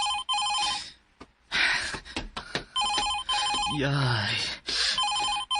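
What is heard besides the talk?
telephone bell ringing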